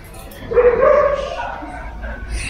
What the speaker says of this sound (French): Ça, c'est le chenil. Il y a des chiens, il y en a là, il y en a là.